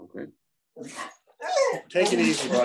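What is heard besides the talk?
dog barking in the background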